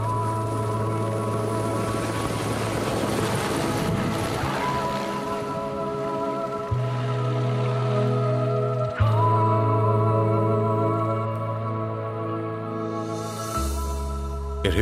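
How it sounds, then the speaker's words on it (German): A steady low mechanical drone with strong tonal hum of a helicopter's rotor and engine running nearby at a mountain hut, shifting in pitch, continuous and loud. "Da kommt der Heli gerade recht."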